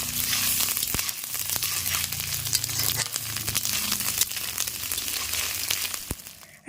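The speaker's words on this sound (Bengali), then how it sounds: "আর এখানে যে আলুটা ভাজা হচ্ছে" Potatoes fry in a pan with a steady, close crackling sizzle, punctuated by sharp scraping and tapping as a spatula stirs them, with no talking.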